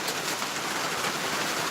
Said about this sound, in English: Rain again.